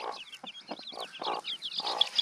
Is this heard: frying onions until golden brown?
no